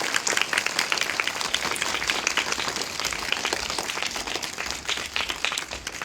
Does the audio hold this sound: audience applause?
yes